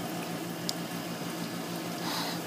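A Frigidaire dishwasher runs with a steady, close motor hum beneath a bubbling, watery churn, while leaking water gives soft liquid squishes throughout.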